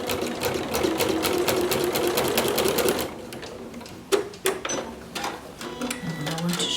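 A sewing machine with a ruffler foot gathering fabric on every stitch: a steady, rapid mechanical rattle runs close up for about three seconds, then gives way to softer handling clicks and shuffles.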